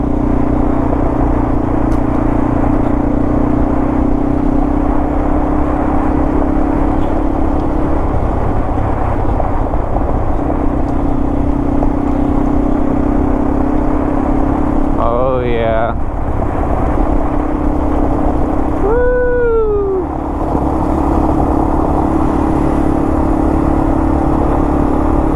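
A Yamaha TW motorcycle putters steadily along a forest trail under a covered canopy, its low engine drone continuous and close, with brief rising whistles or calls cutting in near the end.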